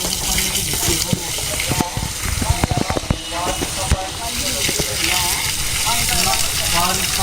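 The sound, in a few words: water being poured on bricks to cure them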